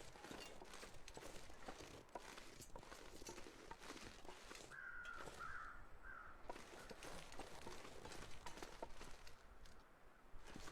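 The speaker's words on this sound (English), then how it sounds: "well, I hear crows" Crows cawing in the video game The Long Dark, a few harsh calls around the middle over a steady outdoor backdrop of wind and crunching footsteps.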